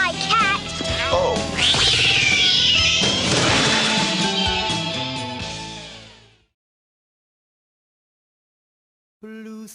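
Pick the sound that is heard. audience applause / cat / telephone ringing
cat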